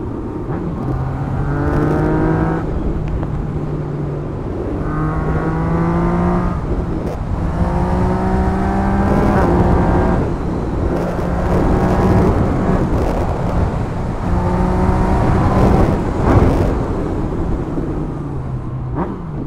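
A 2020 Yamaha MT-09 motorcycle rides a winding road, its engine loud and close as it revs up and falls back in repeated waves of acceleration and shifting, with steady wind rush throughout.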